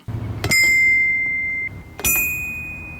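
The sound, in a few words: foot bell hits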